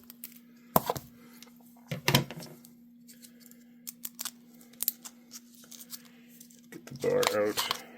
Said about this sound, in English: Take a pair of scissors and cut right next to the bar